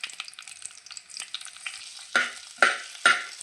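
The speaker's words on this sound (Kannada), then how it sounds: "ಸ್ವಲ್ಪ ಎಣ್ಣೆನ ಹಾಕ್ಕೊಂಡು ಕಾಳುಮೆಣಸು, ಜೀರಿಗೆ, ಹಾಗೆ ಹಸಿಮೆಣಸು ಮತ್ತು ಉದ್ದಿನಬೇಳೆನ ಹಾಕ್ಕೊಂಡು ಫ್ರೈ ಮಾಡಬೇಕು" Black pepper, cumin, green chilli and urad dal fry in hot oil, a soft crackle building to three sharp sizzling bursts as ingredients hit the pan, close and fairly loud.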